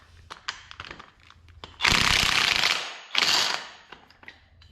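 A wrench ratchets on a tractor bolt while it is being readied for snow work: scattered small clicks, then two loud, rasping bursts of rapid ratcheting, the first longer than the second, close by.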